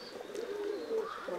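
Soft coos of white pigeons rise and fall in a short, close burst, with a faint chirp over a quiet background.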